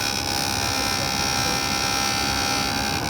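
A Jooltool grinding machine runs steadily as an emerald is ground and polished against it, a constant high electric whine and buzz, close and unbroken for the whole stretch.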